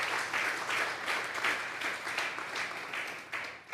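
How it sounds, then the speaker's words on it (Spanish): A church congregation at a Sunday service claps steadily, a dense even wash of applause that holds at the same level throughout. "Démosle un fuerte aplauso al Señor."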